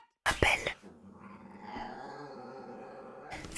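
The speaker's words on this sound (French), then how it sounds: "il y a ma chienne qui m'appelle" A dog whines and growls at close range, a loud burst at the start followed by a sustained low rumbling whimper, with no talk over it.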